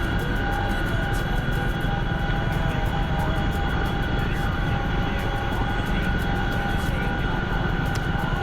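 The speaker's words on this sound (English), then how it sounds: "the Chinook is so loud" Loud, steady drone of a Chinook helicopter engine in a video game, a constant near rumble with a whining tone that holds unbroken throughout.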